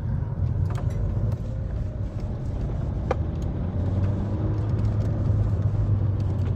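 Renault Megane GT driving on the road, a steady low engine and tyre rumble from inside the car, constant and fairly loud throughout with no talking.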